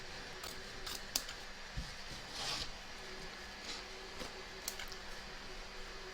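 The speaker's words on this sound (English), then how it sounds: "Trim away the excess batting from around the edge of the stitch line" Scissors trim excess batting from around the stitch line of an in-the-hoop embroidered notebook cover, giving a few faint, close snips and soft rustles against quiet background hiss.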